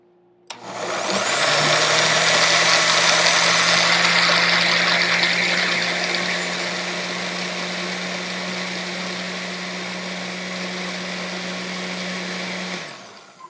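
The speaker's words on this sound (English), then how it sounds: "I'm going to blend this first before adding the salsa" A blender whirring steadily as it purées ingredients with water for a vegan burrito, starting abruptly, loud and close, holding a constant motor drone that eases slightly in pitch before cutting off.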